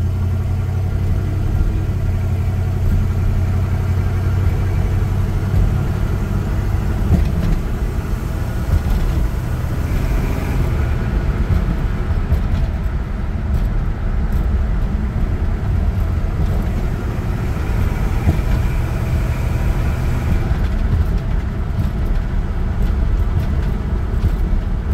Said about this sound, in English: Car right away is idling maybe a little better.